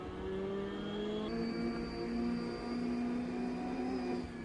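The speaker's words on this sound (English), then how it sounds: "I don't like the vacuum cleaner noise that the turbo makes" A steady engine drone with a high, whining turbo tone like a vacuum cleaner that rises and holds, running continuously like a race car at speed around Brands Hatch Indy in Assetto Corsa.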